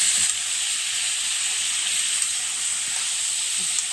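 Fish in a spice mixture sizzles steadily in a frying pan, an even close hiss with faint soft knocks as it is gently stirred.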